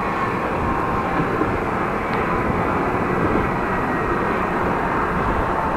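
A train rolls past a cyclist on the cycle route near Sauwerd station, a steady loud rumble that fills the whole moment without speech.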